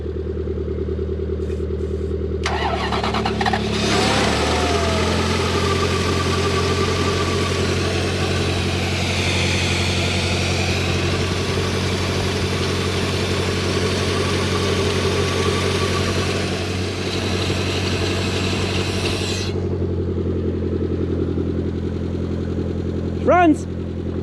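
A Toyota Soarer's engine starts up and runs at a steady, rough idle, loud and close, with a brief revving rise before settling, as people talk near the car over the running engine.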